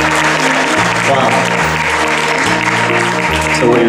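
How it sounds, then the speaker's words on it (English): Audience applause fills an awards ceremony hall, a dense continuous clapping that carries on for several seconds with a voice speaking over it. "Another round of applause for you"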